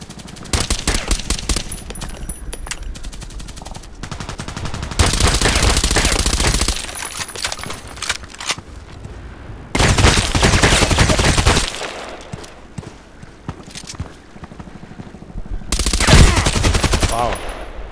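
Rapid submachine-gun fire from an H&K MP5SD6 in the shooter game Contract Wars comes in loud, dense bursts, with long sustained volleys around the middle and end and quieter shots between them.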